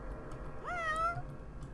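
A cat in the video game Faust's Alptraum gives a single clear rising-then-falling meow, fairly close, over a faint low background hum.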